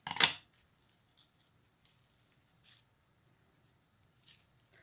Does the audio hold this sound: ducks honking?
no